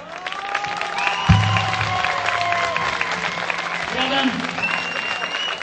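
Audience applause fills a hall in Tavşanlı, steady dense clapping throughout with a sharp thump early on and faint voices mixed in.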